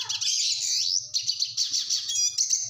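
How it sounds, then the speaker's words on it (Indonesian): Red siskin singing a continuous, rapid twittering song of high trills and warbling slurred notes, close and loud, with a faint low pulsing hum underneath and no voices. "Burung red siskin."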